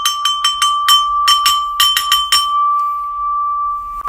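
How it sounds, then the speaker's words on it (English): Small bells struck about a dozen times in a quick uneven run, bright ringing clangs that blur together, then stop and leave a single clear tone fading out alone, with one faint knock at the very end. "I want a bunch of little bells like that."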